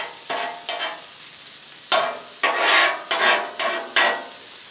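Moose tail cooking on a Blackstone griddle, with sizzling bursts that come and go in close, loud waves as the meat is stirred and turned, and no voices.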